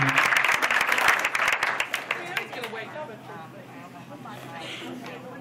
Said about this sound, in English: Give them a mic round of applause.